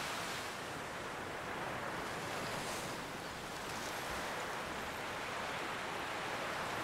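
Steady ocean waves in the video game A Plague Tale: Requiem give a continuous, broad wash of surf with wind-like hiss. The sound holds constant and moderately loud throughout, with no voices.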